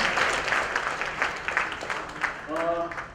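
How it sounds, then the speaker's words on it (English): Audience applause for a team chef at a product launch event for a furnishings app, a steady broadband patter of clapping throughout with some voices and a few tonal notes rising near the end. "This round of applause for the team chef, ladies and gentlemen."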